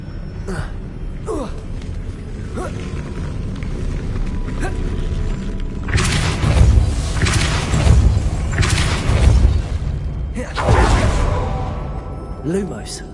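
A Depulso spell cast in a Harry Potter video game, giving several loud booming whooshes and thuds that burst out in clusters amid rumbling game ambience, with a voice calling out over the effects.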